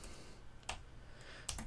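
A few soft clicks of keys on a computer keyboard, sparse and irregular against a quiet hiss, with no voices.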